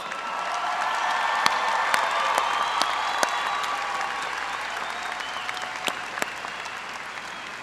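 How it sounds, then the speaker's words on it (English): A large crowd applauds the graduating high school class of 2018 at their commencement ceremony, sustained and somewhat distant, with a few sharper claps standing out and the clapping gradually thinning toward the end. "Please give them a round of applause."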